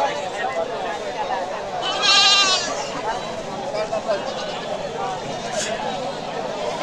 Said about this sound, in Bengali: রং বেরঙের দেশি জাতের ছাগল।